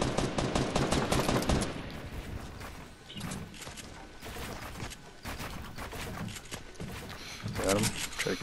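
Rapid gunfire in the Fortnite video game, repeated bursts of shots crackling under excited talk from a player throughout.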